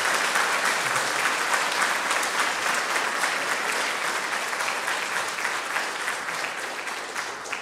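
A concert audience at a state music school jubilee applauds warmly, dense sustained clapping from a large crowd that continues evenly and tapers slightly toward the end.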